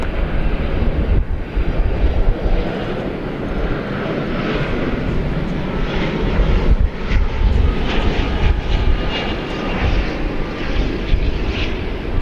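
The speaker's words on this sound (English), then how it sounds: "this may be a regularly scheduled flight, the shortest 757 flight you'll ever see" A Boeing 757 jet at DFW Airport roars steadily and loudly throughout, a broad continuous engine rumble heard from nearby without talk.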